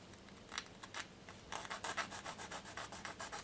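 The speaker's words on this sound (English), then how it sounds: "Once you've got it as flat as you can without ruining the plastic, you employ a file" A file rasps steadily across a plastic spur nub on a Gundam model part, in quiet, close, rhythmic strokes that quicken into a faster run partway through.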